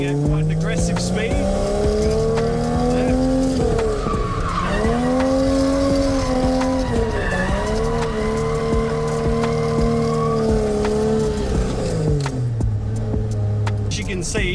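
A drift car enters a corner at aggressive speed, its engine howling and shifting pitch as the tires squeal and skid loudly and continuously, with a voice talking over the din.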